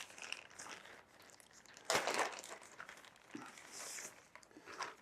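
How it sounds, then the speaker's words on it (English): A TWT TW50 headset is unpacked from a reusable plastic Ziploc bag: quiet crinkling and rustling of plastic with one sharper, louder crumple about midway, then softer handling. "Looks like it comes in a reusable Ziploc bag."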